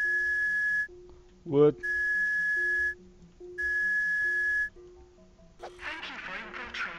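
A free cereal-box toy whistle in the video game Jazzpunk blows three long, steady, shrill tones in an even rhythm, loud and close, with a brief spoken word between blasts and a low hum underneath.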